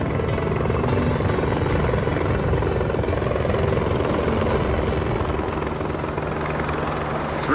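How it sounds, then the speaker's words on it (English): Three helicopters hover over a city street near a police roadblock, their rotors producing a loud, continuous droning thrum and rapid chop that stays constant throughout, with no voices. "Three helicopters overhead,"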